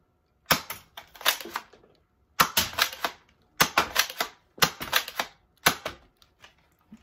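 A Nerf Spectre toy blaster fires foam darts in sharp, close, snappy bursts, each cluster of two or three pops separated by short pauses, about five groups in all.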